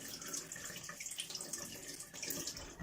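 Reverse osmosis water runs steadily as something is rinsed under it, a close, continuous splashing flow lasting the whole few seconds.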